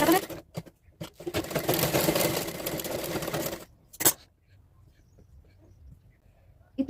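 A sewing machine stitches a katori blouse in a burst of rapid mechanical whirring lasting about two seconds, bracketed by short clicks and handling noises, then near silence.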